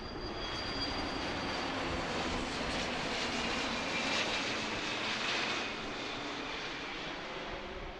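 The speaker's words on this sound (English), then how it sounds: "There's the Gulfstream." A Gulfstream business jet at Philadelphia airport gives a steady, broad jet roar that holds at an even moderate level for the whole stretch, with a faint high whine riding on top.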